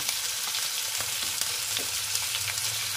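Chicken pieces for chicken afritada fry in a pan with a steady, close sizzle and crackle, small pops scattered through the three seconds and no voices.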